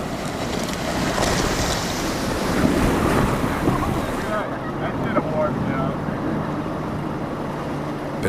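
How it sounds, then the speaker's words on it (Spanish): Colorado River rapids roar through Upper Granite Gorge in the Grand Canyon as a loud, steady rush of churning whitewater with wind buffeting the microphone, dropping slightly midway. "Los rápidos de la Upper Granite Gorge, uno de los más peligrosos del cañón"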